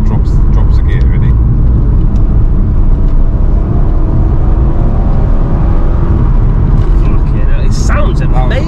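An MK4 Toyota Supra accelerates hard through its gears, its engine note loud and continuous with a brief change near the end, while people talk over it inside the car.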